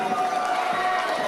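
A wrestling crowd cheers and roars loudly and continuously at a CCW championship event, a dense wash of voices filling the arena.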